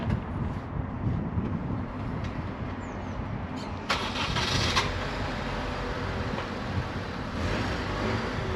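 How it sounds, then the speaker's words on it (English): A car engine being started with jump leads: a cranking whirr catches and settles into a steady running idle, close by and fairly loud, with no voices. "put the jump leads on and see if we can get it started"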